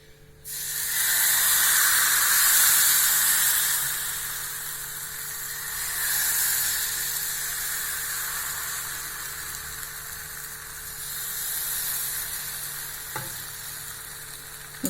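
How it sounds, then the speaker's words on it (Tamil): Dosa batter poured onto a hot griddle sizzles loudly and continuously, the hiss swelling and easing in waves over about fifteen seconds, with a faint click near the end and no talking. "தோசை ஊற்றிடலாங்க. தோசை கல் அடுப்பில் போட்டாச்சு"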